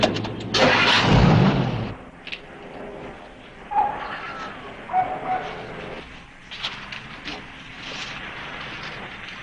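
A car engine cranks and catches with a loud burst, then idles and pulls away, fading under intermittent background noises and short sounds during a hostage scene in a highway patrol drama.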